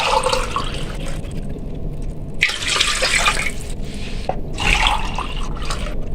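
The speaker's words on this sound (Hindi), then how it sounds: "इसमें हम 3 कप पानी ऐड कर देंगे।" Three cups of water are poured into a pot to make sugar syrup for creamy semolina halwa, giving a loud, close, gushing splash in several bursts without any talking.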